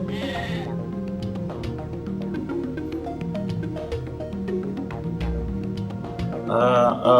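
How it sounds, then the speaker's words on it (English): Sheep bleats from the Game Boy Advance game Tak and the Power of Juju, heard over continuous game music that runs throughout, with a brighter burst near the end. "Look, by the shrine, it's a sheep."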